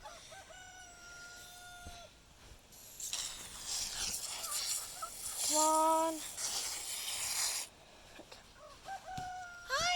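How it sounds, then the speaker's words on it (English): Backyard chickens and turkeys: a rooster crows in clear harmonic bursts near the start, midway and at the end, with scattered clucks and farmyard clatter in between, while a person speaks briefly. "my dad was pouring water into the chickens."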